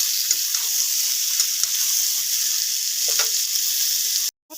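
Boiled jackfruit frying with potatoes in a pan, a constant close hiss of hot oil with occasional soft stirring scrapes, cut off briefly near the end.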